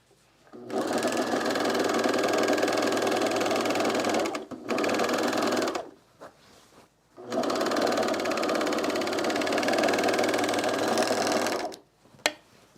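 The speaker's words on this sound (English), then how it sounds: "we're gonna use the serger for this" Serger sewing the seams of corduroy trousers, running in two long steady whirring runs with a brief burst between and short pauses, close and loud with no talk.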